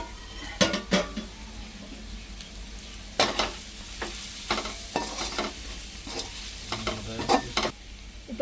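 Masala being stirred and mixed in a pan before cooked rice is added for a soya chunk rice dish, with close, irregular scraping and clanking of a spoon against metal over a soft sizzle, no talking.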